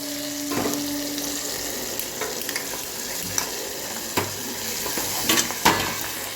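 Patra curry being tempered in a pan, with a close, sustained sizzle of frying broken up by several sharp clinks and scrapes of a spoon against the pan, and no voices.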